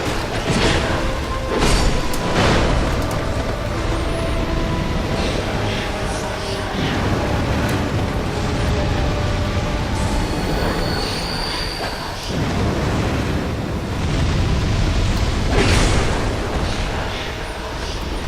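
Flame Swathe fire spell explosions in Dark Souls II, repeated roaring bursts in a loud, rumbling battle soundscape, with someone talking over much of it.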